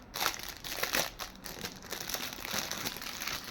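Plastic or paper wrapping crinkles and rustles steadily as a wrapped Vinayagar (Ganesha) idol is unwrapped at home, with repeated soft crumpling bursts close to the microphone and no talking.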